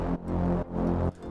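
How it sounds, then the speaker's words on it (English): Raw, unprocessed Reese bass synth preset for tech house, a thick detuned low drone played as two long sustained notes with brief gaps between, loud and alone. "Then this Reese bass, it's also from my Tech House bass preset pack"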